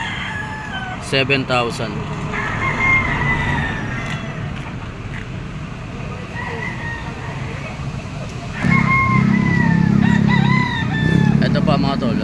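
A Red Kelso yellow-legged gamefowl rooster, two years old, crows repeatedly along with other roosters, some near and some farther off, over steady background noise. Someone speaks briefly.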